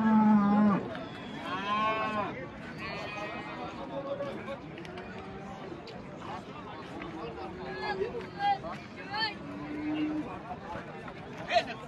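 Cows at a busy livestock market in Özgön, Kyrgyzstan, giving several drawn-out moos at varying distances amid crowd chatter and someone talking nearby.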